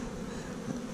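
Honey bees buzz steadily at the hives, a close, continuous drone with no voices.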